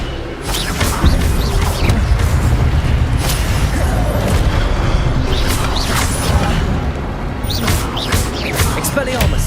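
Incendio fire spell blasts in Hogwarts Legacy combat against brutes, a loud rush of booming, crackling bursts layered with whooshes and impacts in a steady, chaotic fight.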